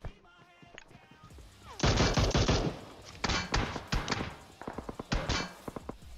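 Bursts of rapid gunfire in the mobile battle royale game PUBG Mobile, dense automatic volleys alternating with shorter clusters of shots, loud and close, with brief quieter gaps between bursts.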